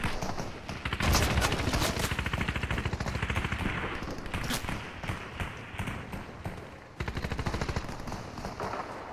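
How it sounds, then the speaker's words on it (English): Automatic gunfire in the Fortnite video game: loud, dense, rapid-fire bursts that run almost without a break, with a short dip near the end before the shooting resumes. "where's the person that was shooting at me?"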